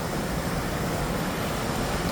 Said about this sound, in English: We're at the weir now, so I'm not going to hear much because it's quite loud, the water down here today.